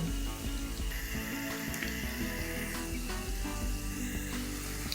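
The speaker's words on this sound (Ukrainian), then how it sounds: "І тепер закидаю пончики. І смажу до рум'яної такої кірочки" Steady, dense sizzling and bubbling of doughnuts deep frying in hot oil, continuous and close, with faint clinks now and then.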